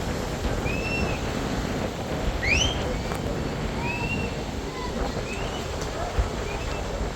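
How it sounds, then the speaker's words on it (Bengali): Strong wind blows across a river aboard a passenger launch on the Dhaka to Ilisha route. A steady broadband rush of wind and water noise runs throughout, with a few thin bird calls overhead. "প্রচুর বাতাস রয়েছে নদীতে"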